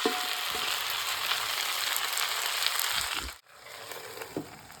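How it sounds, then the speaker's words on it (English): Fried squid with green chilies sizzles loudly in a hot pan while being stirred, a steady close crackle with a few scraping knocks, cutting out briefly near the end before resuming more quietly. "add the fried squid and mix it thoroughly"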